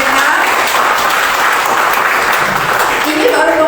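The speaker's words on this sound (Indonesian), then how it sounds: "Bagi tepukan untuk mereka." A church congregation applauds the youth who decorated the church, a steady dense clapping that fills the room from start to finish and stays loud throughout.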